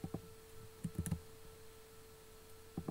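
Keys on a computer keyboard are tapped to type a fraction, giving a few quiet clustered clicks in short bursts over a steady low hum.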